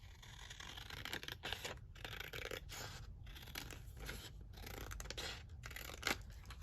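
Scissors snipping through paper scraps for a junk journal, a run of quick close cuts with rustling paper between them, over a low steady background hum and no talking.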